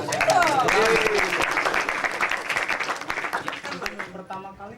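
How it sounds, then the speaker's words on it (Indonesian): An audience at a university orientation motivation training claps through the whole stretch, a steady burst of applause mixed with voices and some tonal sounds, tapering near the end. "Wah, Tepuk tepuk tangan."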